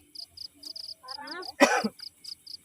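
Crickets chirp in the dark during a nighttime cricket hunt in Sragen, giving short, evenly spaced, close chirps that continue under a brief voice and a cough.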